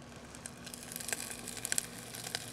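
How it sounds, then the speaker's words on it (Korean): Onions stir-frying in a pan with chili powder added, giving a faint, steady crackling sizzle with scattered small pops throughout and no voices. "양파가 어느 정도 볶여질 때쯤 돼서 바로 이 칠리 파우더를"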